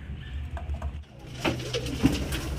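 Golden pigeons of a fancy breed kept for sale give low, soft cooing calls in a quiet coop, brief throaty murmurs with light shuffling and no talk.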